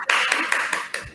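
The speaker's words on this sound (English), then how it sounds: "yes now please clap." Audience at a Guru Poornima celebration clapping, a brief burst of dense, close applause with rapid overlapping hand claps and slight surges.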